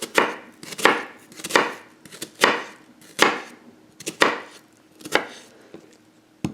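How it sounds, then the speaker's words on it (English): Knife slicing through an onion on a cutting board: about nine sharp, evenly spaced chops with a short crunch and board knock each, close and alone with no talk. "I'm going to go about 3/4 of the way through the onion,"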